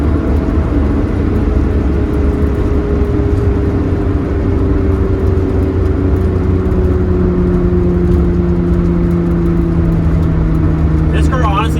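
Volkswagen VR6 car cruising on the Autobahn at well past 100 mph, giving a steady loud drone of engine, road and wind noise throughout, with slowly shifting engine tones and no break.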